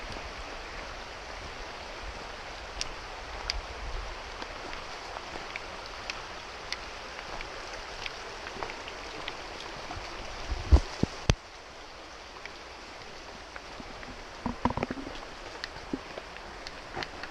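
A river runs right beside a hiking trail in the Smoky Mountains, its steady broadband rush faint and continuous, with a few brief knocks and a slight drop in level near the end.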